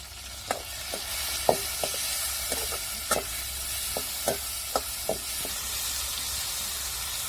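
Potato curry base sautéing in a pan for a Maharashtrian wedding-style potato rassa, a steady sizzle and hiss broken by a string of sharp spoon-against-pan clinks at irregular intervals.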